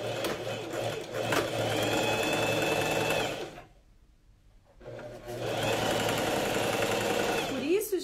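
A sewing machine stitches the shoulders of a coat, a loud steady close whirr that stops for about a second midway, then resumes at the same even pace.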